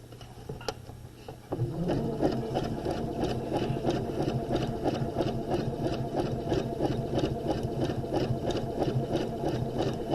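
A sewing machine stitching a zigzag finish seam along a fabric edge, starting with a few clicks and then running in a steady, fast mechanical rattle close by for several seconds.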